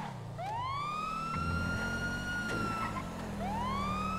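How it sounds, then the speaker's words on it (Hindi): A video game police car siren wails in long rising and falling sweeps, loud and close, with a low vehicle rumble underneath and no talking. "चलिए देख सायरन ऑन करके चलें"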